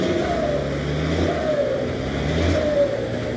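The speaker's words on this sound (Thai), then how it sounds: "ชอบมากเลยครับเสียงเทอร์โบนี" A turbocharged 240 hp truck engine revs hard while towing a six-wheel truck out of mud, a loud, steady, close drone with a rising whine throughout.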